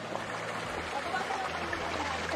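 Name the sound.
clear mountain stream water flowing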